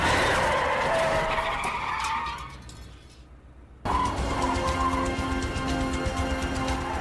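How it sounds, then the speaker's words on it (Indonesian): Car tires skid and squeal loudly during a chase through a basement in a film scene, with a sustained screech that fades, a brief quiet gap, then a renewed burst of skidding and engine noise. "Aksi kejar-kejaran pun terjadi di dalam tempat tersebut, yang pada akhirnya membuat mobil Angela menabrak tiang basement"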